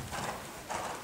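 A horse canters during a riding lesson, its hoofbeats coming as two soft, muffled footfall groups in a rolling three-beat rhythm, heard at moderate distance against a dull background.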